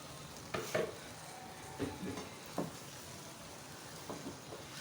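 Tomato puree hits a hot pan for aloo bhujia, giving a faint continuous sizzle broken by a few soft scraping stirs, with no talking.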